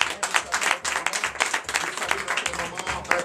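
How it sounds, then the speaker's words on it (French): A Sunday worship congregation in Bénin claps in praise of the Lord, a brisk, dense burst of many hands sounding close and lively for a few seconds, with voices blending in. "Donnez l'acclamation à notre Seigneur Jésus"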